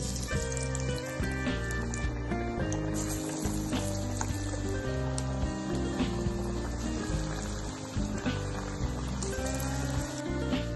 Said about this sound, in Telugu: ఇప్పుడు కడాయి పెట్టి ఆయిల్ వేసి ఆయిల్ బాగా కాగాక మీడియం ఫ్లేమ్ లో పెట్టుకొని వడ వేసుకోవాలి